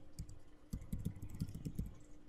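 Quick bursts of typing on a computer keyboard, clustered key clicks in an uneven rhythm, close and clear against a quiet room with no voices.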